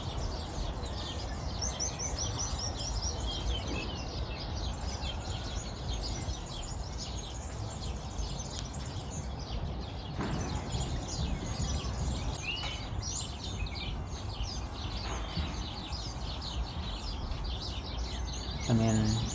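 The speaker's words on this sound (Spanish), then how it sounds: "Aquí otro pajarito pegándose un buen chapuzón." Small wild birds bathing in open countryside during breeding season, with bright, busy chirps and tweets scattered through a steady outdoor background that lasts the whole stretch.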